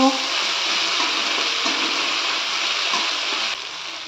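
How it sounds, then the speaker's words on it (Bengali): Ground poppy seed paste frying in a pan while being stirred for a Bengali rui posto fish curry, a steady broadband sizzle with soft scraping, continuous and close, easing slightly near the end. "এবার বেটে রাখা পোস্তগুলো দিয়ে দিলাম। একটু ভালো করে নেড়ে নেব।"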